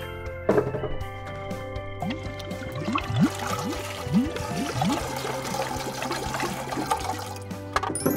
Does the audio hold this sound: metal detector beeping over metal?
no